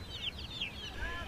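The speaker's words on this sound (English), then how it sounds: "chickens and more ducks" Chickens cluck and chirp at a busy Vietnamese market, several birds calling close by over a low murmuring crowd rumble.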